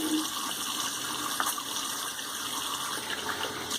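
Tap water running steadily into a sink for a light rinse after shaving, a constant close splashing hiss with no pauses.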